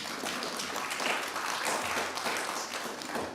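An audience applauds at an academic forum, a steady dense wash of many hands clapping at moderate volume for a few seconds, with no talk over it.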